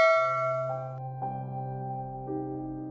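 A bright bell-like ding rings out once, then sustains and rings on with a couple of softer follow-up chimes, clean and alone with no talking.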